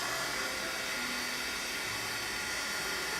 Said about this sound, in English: You can hear me and the hairdryer good,